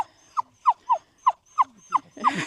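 A dog on a mountain ridge hike in Snowdonia, Wales, giving a string of about eight short high whimpering yelps at an even pace, close and clear, with wind noise rising at the end.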